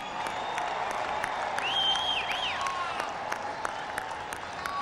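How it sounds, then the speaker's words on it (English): A stadium crowd applauds both teams at the Stanford Cricket Stadium after a Twenty20 final, a distant, even wash of clapping with a faint whistle cutting through. "Round of applause for both teams."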